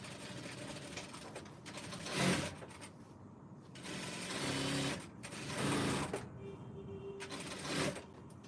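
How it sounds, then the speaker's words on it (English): A sewing machine stitches the side seam of a gown in several loud whirring bursts, separated by brief quiet pauses, close by. "you also stitch the side seam"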